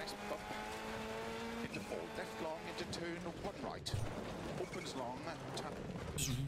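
A rally car in DiRT Rally 2.0 driving with steady engine drone and shifting pitch, then a sudden harsh crash and tumbling clatter from a rollover midway, with a voice talking over it.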